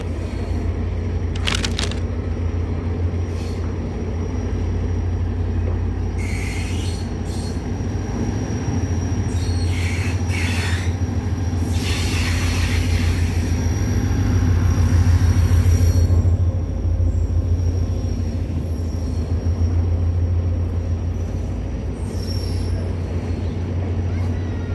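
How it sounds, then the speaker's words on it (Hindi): The Karachi Express rolls into Hyderabad Junction with a heavy, steady rumble of wheels and carriages, brakes squealing in long high bursts as it slows, and faint voices in the background. "तो हैदराबाद जंक्शन पे पहुंच रही है"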